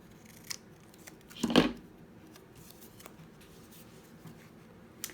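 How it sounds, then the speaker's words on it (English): Scissors cut through a strip of paper in a single close, crisp snip, with faint handling rustles and quiet room noise before and after. "we can cut it with the scissors"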